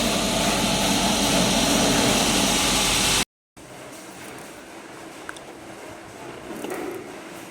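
A heavily loaded Mahindra Bolero pickup climbing the Agumbe Ghat road in third gear gives a loud, strained engine roar with wind rush, then a brief cut to a quieter, muffled steady drone.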